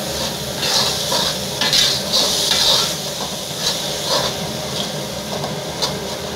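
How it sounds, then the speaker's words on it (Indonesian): Red spice paste for a squid and petai dish sautés in a pan, its steady sizzle broken by repeated scraping strokes of a spatula stirring it, close and fairly loud. "Tumis bumbunya sampai matang"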